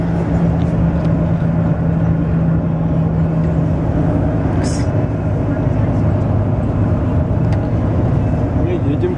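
Bus ride on the road from Sihanoukville to Phnom Penh in Cambodia, a loud constant low rumble and road noise from inside the vehicle, with a brief higher squeak midway.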